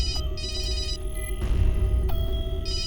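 A telephone rings steadily with a repeating electronic tone, fairly loud and close, over a low background rumble, with no one speaking.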